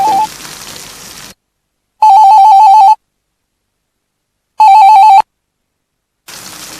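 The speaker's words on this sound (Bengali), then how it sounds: "আলী হোসেন, আলী হোসেন প্লিজ ফোনটা ধরো" A telephone rings indoors in two loud electronic trilling bursts separated by silence, with some background noise before and after.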